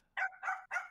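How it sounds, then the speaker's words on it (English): A dog barks three times in quick succession, sharp and fairly close, coming through a voice chat in an online Destiny 2 PvP game, with no talking over the barks. "Somebody's dog is barking."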